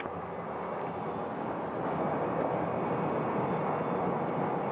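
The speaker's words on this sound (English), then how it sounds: "The Atlanta flight just touching down now" An airliner from Atlanta landing at Phoenix Sky Harbor Airport, a broad steady jet roar heard from a distance that swells slightly as it touches down, with no voices.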